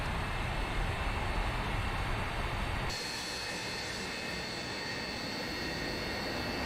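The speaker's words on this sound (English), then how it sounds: "Hear that engine roaring" A steady, loud roar from an Antonov plane in FedEx livery in a flight simulation game, with a broadband engine drone that shifts tone slightly partway through and continues unbroken throughout, with no voices.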